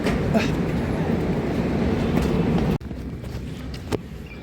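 A steady rumbling roar of a moving train fills the clip, then drops abruptly to a quieter background with a faint knock.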